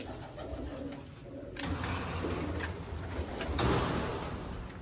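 Pigeons coo softly around a rooftop coop where grain has been scattered, their low murmuring calls steady and close against faint background noise, with no talk.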